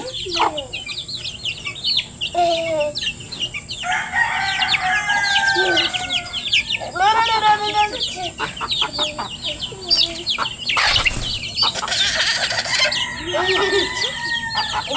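Native chickens clucking and a rooster crowing in a farmyard at feeding time, with repeated clucks, chirps and calls from several birds close by, and soft background voices now and then.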